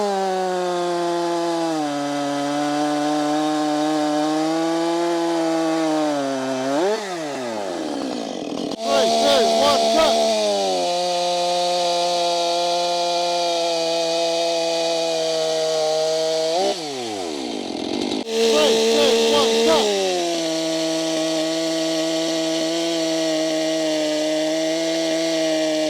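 Husqvarna 564XP, Stihl MS 500i and Stihl MS 400 chainsaws cutting through a log, a loud steady two-stroke whine that dips and revs back up between cuts, with brief pauses in engine pitch and a voice heard faintly underneath.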